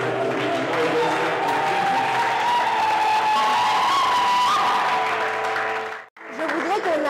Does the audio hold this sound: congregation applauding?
yes